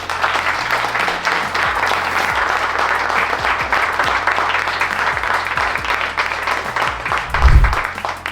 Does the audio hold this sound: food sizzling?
no